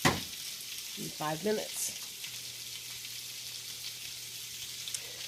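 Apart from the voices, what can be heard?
pork chops sizzling on the grill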